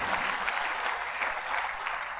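A church congregation claps for a family, a continuous, dense patter of many hands heard at a moderate distance, fairly soft and steady from start to finish.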